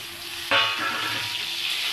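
Onions frying in a pan until browned give a steady, close crackling sizzle that jumps louder for a moment partway through and then settles into a continuous hiss.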